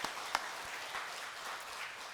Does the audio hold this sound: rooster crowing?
no